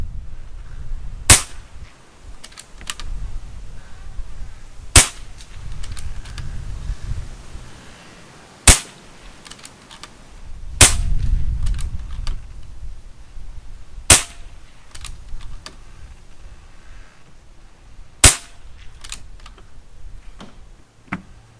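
An EB Arms Agincourt multi-shot pre-charged pneumatic air rifle fires through a 12-round magazine, each shot a sharp, close crack spaced a few seconds apart, with quiet handling and cocking clicks between shots.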